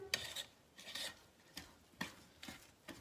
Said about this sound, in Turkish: Şöyle bir kaşık yardımı ile karıştırayım